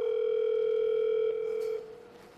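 A telephone line plays a steady electronic tone after the caller hangs up. It holds for over a second, drops in level, then fades away, with no talk over it.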